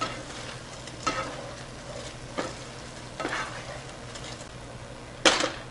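Soaked, drained rice is stirred into a sizzling egg biryani gravy in a pot, with four separate scraping strokes of the spoon over a low, steady frying hiss and no voices.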